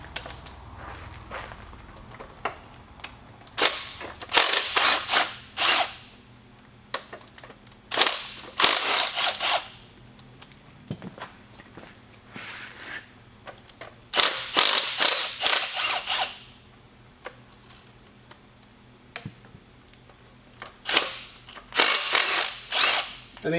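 Tools work a motor mount and an air compressor mount off a Toyota 22RE engine block being stripped: bursts of ratchet clicking and metallic wrenching come in clusters, loud and close, with quiet pauses between.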